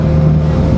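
A small, new motorboat rides strong waves off El Nido, Palawan, its engine a loud, steady drone blended with wind buffeting, close and continuous for under a second.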